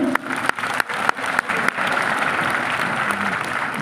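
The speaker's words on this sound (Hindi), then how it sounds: "क्या बेटियों के लिए इतनी कम तालियां बजती हिंदुस्तान में?" Audience applause at a national award ceremony in a hall, a burst of clapping with sharp claps at first that settles into steady, dense applause.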